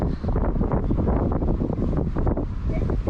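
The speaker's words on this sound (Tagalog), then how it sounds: "So windy, RJ." Strong wind blows outdoors in a front yard garden, a loud, steady roar buffeting the microphone throughout with no pause.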